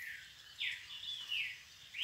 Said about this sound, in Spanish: Los pájaros despiertan la jibarita y al jibarito.